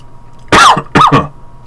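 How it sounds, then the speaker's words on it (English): Two short, harsh coughs close to a microphone, the second breaking into a quick double burst, with near silence around them. "So I coughed directly into the microphone"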